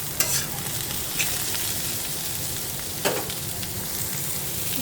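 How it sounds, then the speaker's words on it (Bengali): Fenugreek leaves, boiled and drained, fry in a pan with browned onion and salt as they are stirred, giving a steady close sizzle broken by a few sharp scraping clinks of the spatula. "দেখেন কত সুন্দরভাবে মেথি শাকটা ভাজা হচ্ছে।"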